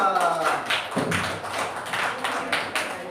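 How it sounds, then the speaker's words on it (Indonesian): A small audience claps for group 2 after their presentation, a brief ragged round of rhythmic hand claps heard close by, with voices murmuring underneath. "tepuk tangan untuk kelompok 2"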